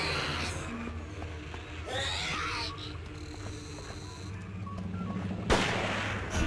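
Gunfire from the horror video game Forbidden Siren crackles through dense in-game noise, with a sharp loud shot near the end over a steady background rumble.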